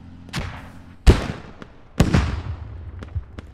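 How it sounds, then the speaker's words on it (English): Explosions and gunfire crack through a Squad combat battle during a river crossing assault, with two heavy blasts about a second apart and several sharper, lighter shots around them, loud and close. "Rocket."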